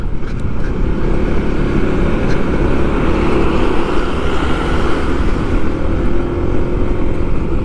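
A vehicle's engine drones loudly and steadily with heavy road rumble as it overtakes trucks on the Jatigede road, a continuous close-up roar with no pauses or talking.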